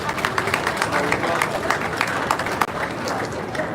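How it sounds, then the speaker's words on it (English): A crowd at a livestock show applauds a market lamb class, steady continuous clapping at moderate distance, with a faint voice underneath. "Let's give a round of applause for this competitive class of market land"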